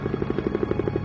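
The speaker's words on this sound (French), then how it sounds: "Guido Fernandez survole la zone du drame à bord d'un hélicoptère de la marine." A navy helicopter flying overhead, its rotor blades thumping in a fast, even rhythm of loud, close pulses with a steady engine drone beneath.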